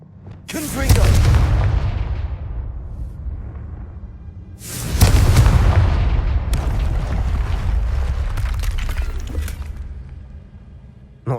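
A Confringo fire spell explodes in the video game Hogwarts Legacy, a loud close blast that decays into rumble, followed by a second big explosion with crackling debris trailing off over several seconds, a voice briefly audible.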